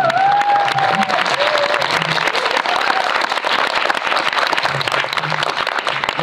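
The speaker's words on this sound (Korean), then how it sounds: "다시 한번 박수 부탁드리도록 하겠습니다" A Korean cinema audience at a film screening Q&A gives loud, dense, continuous applause for a visiting director, with crisp close claps and an occasional voice underneath.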